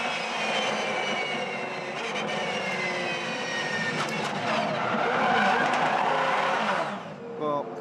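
A Supercars race car spins at Bathurst during the Bathurst 1000, heard onboard as a loud engine roar with tyres skidding and screeching, rising then cutting off near the end, under a commentator's talk.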